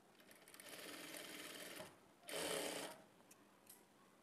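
A sewing machine stitches diagonally corner to corner across blouse pieces, running in two steady bursts, the second louder and closer, with a short pause between and a faint tail at the end.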